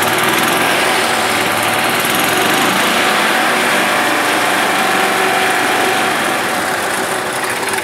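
A gas-powered 2011 Club Car DS golf cart with a bad governor runs steadily at high revs, a loud, constant buzzing engine drone held on the throttle near the limiter throughout, with no voices.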